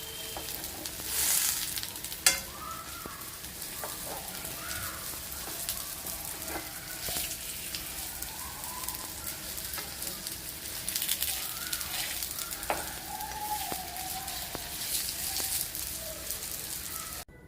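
A semolina and banana snack sizzles steadily in ghee in a pan, a close, even crackle with occasional clinks and stirring as pieces are turned over; a voice talks quietly at times.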